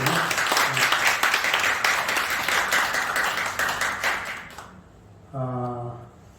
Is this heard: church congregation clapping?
yes